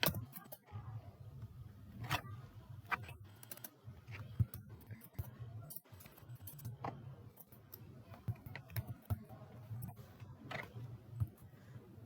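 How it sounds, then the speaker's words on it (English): Text being typed on a computer keyboard into a Microsoft Word 2010 document, heard as faint, irregular keystroke clicks over low background hum. "now I will type some text."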